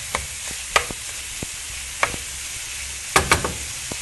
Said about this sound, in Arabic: نقليه مليح حتى يتقلى مع هذاك البصل